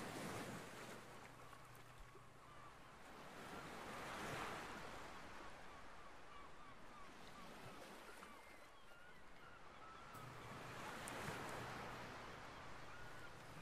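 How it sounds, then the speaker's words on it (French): Ocean waves break on a beach and wash in long, slow surges. The surf rises and falls in a continuous, fairly soft roar with no voices. "La danse des vagues."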